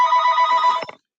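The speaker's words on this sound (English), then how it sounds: "Whoops, my phone is ringing." A mobile phone rings with a bright electronic trill held for most of a second, then cut off by a couple of quick clicks, loud and close.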